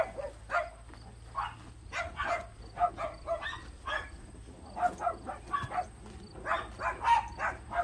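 A dog gives a series of short, quick barks and yips in an outdoor grassy spot near horses, repeated irregularly at moderate distance over a faint steady hum.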